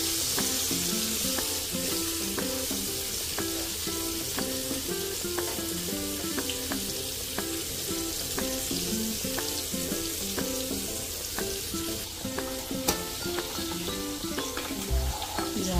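Prawns coated in gram flour frying in a pan, a loud continuous close sizzle with crackling bursts throughout and no voices.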